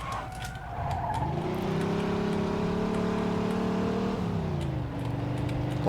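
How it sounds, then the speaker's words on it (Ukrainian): Fast car driving in the Mafia 2 video game, with a steady engine drone that shifts pitch as the car changes speed, some tire and skid noise, and no talking. "Я швидко як можу їду."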